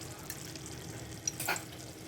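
Mustard and cumin seeds spluttering in hot oil in a pan, a faint low sizzle broken by a few small crackling pops.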